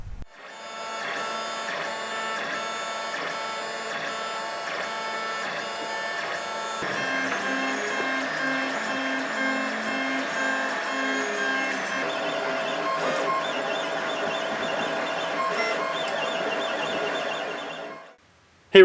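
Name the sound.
3D printer printing parts for BB-8 droid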